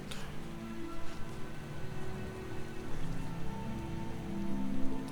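Steady rain falls in a fantasy role-playing game where the player is a mage, a dense, even patter that holds throughout, with a soft tonal background beneath and no voices.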